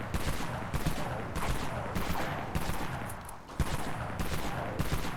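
Jackrabbit B12 shotgun from Dead Frontier fired repeatedly in loud, punchy blasts roughly every second, each boom followed by a short decay, with a background hum of game ambience and no talking.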